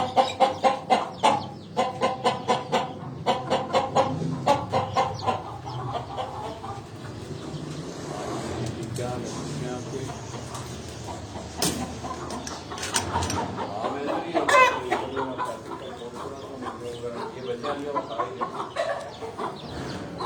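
Chickens cluck busily throughout with a rooster calling among them, a steady farmyard chatter with occasional louder bursts and distant background noise.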